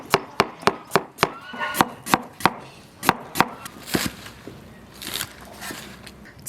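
Knife chopping scallion, ginger, garlic, onion and coriander on a board outdoors in a yard, a quick run of sharp, close, evenly spaced chops that slows and then gives way to softer scraping.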